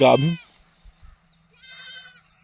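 A goat bleats twice, with a loud, close bleat at the start and a softer, drawn-out one after a quiet pause broken by faint thumps.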